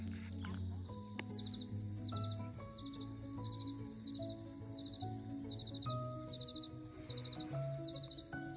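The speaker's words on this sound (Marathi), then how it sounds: "एक एक पक्ष्याचा पण आवाज ऐकावला येते" Birds call in a quiet Konkan village, with a repeated short trilling chirp at regular intervals over a soft background of insects and other distant bird notes, no voices.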